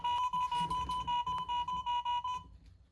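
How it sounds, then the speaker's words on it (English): A 2005 Furby toy's small speaker, in production test mode, gives a rapid series of evenly pulsed high beeps, about a dozen in quick rhythm, then stops abruptly. "Pressing it again will make speaker beeps"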